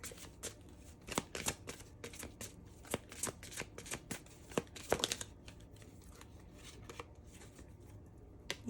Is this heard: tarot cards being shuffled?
yes